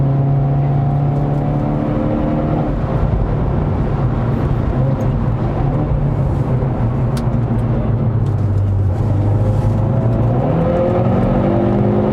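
A 2021 Hyundai Veloster N with an 8-speed dual-clutch gearbox laps a circuit, its engine droning loud and steady throughout, with the pitch dropping and climbing again as gears change.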